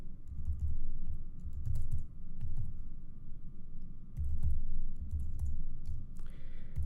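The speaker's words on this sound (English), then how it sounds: "I type Command-I to fix the indentation" Computer keyboard typed on while writing code, bursts of rapid close key clicks separated by brief pauses, alone without talk.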